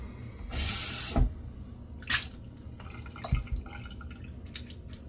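Water splashes and drips in short bursts from a soaked boar-bristle shaving brush, a longer trickle followed by a few scattered drops and wet squeezes close by, with no talking.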